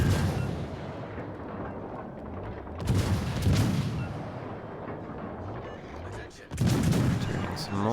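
Naval guns fire shells in a World of Warships: Legends battle, with heavy booming salvos in two or three bursts over a steady rumbling background of engine and sea noise.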